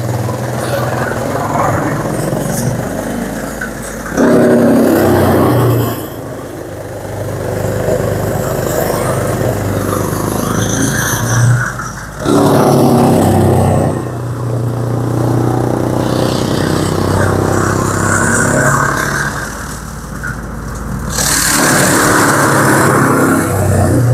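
Small tractor-driven chaff cutter chopping all kinds of fodder stalks, a steady loud mechanical engine drone with rhythmic chopping, swelling louder in bursts several times; voices talk faintly underneath.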